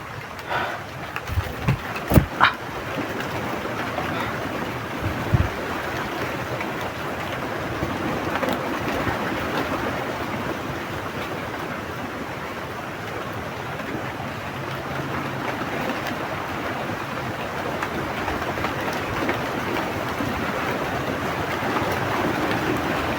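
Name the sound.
rain falling outdoors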